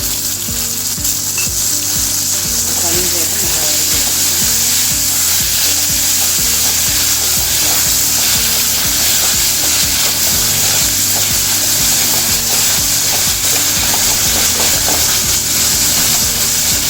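Chopped tomatoes hit onions frying in a pan for a chilli milk curry, giving a loud, continuous sizzle with steady stirring and scraping of a spoon against the pan, close up and with no talk.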